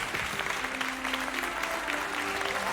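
A crowd claps steadily and densely for a few seconds, a continuous wash of applause with no pauses.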